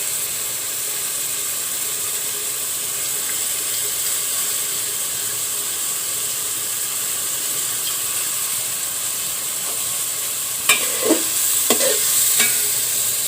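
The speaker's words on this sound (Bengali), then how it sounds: "মসুর ডাল ও চিংড়ি মাছ একটু কষিয়ে নেব।" Masoor dal and prawns fry in a pan with a steady, close hiss and sizzle, and a few short stirring scrapes and clinks come near the end.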